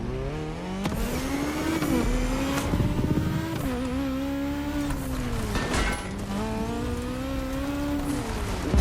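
A Jaguar CX-75 in The Crew Motorfest revs and climbs through gears, its engine note rising and dropping with repeated shifts and tire noise, sustained and fairly close throughout.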